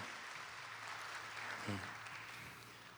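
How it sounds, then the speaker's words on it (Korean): Congregation applauding together during a Sunday morning church service, a soft, fairly distant wash of clapping lasting a few seconds and fading slightly at the end. "함께 영광의 박수 올려드립니다."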